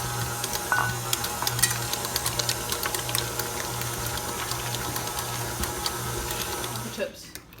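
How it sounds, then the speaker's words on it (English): An electric mixer beats cake mix, eggs and oil into cookie dough, giving a steady, close whirring hum with a low drone that runs evenly for about seven seconds before cutting off. "Now mix that in your mixer."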